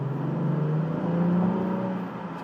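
2023 Acura TLX Type S engine in Sport Plus mode, revving up briefly as the throttle opens, a steady close rising tone with a swelling then easing whir over a couple of seconds.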